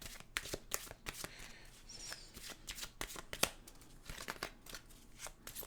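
A deck of animal oracle cards is shuffled by hand in a quiet room, giving a continuous close run of soft riffling and flicking card slaps with a few sharper snaps.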